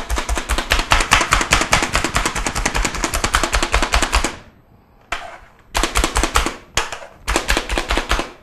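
Fresh parsley, washed with its stems picked off, is chopped for Thanksgiving stuffing: a rapid, steady rattle of knife strikes for about four seconds, a brief pause, then several more short bursts of fast chopping close up.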